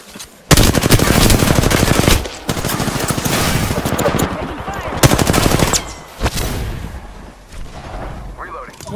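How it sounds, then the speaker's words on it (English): Automatic weapon fire in the Apex Legends video game, long loud bursts of rapid machine-gun shots close by, pausing briefly between volleys, with a short final burst trailing into quieter game sounds. "Shots fired at me."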